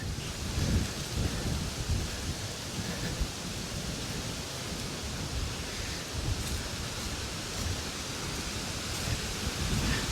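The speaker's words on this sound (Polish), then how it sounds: "wiatr jest dość silny" Strong wind on a yacht on Lake Jeziorak buffets the microphone in a constant roaring rush, gusting unevenly throughout.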